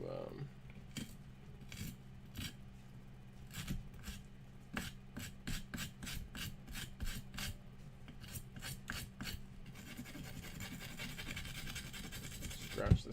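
Model train car being scratched up for weathering with a small tool, close and quiet, a steady series of rhythmic rasping scrapes, followed by denser continuous scratching.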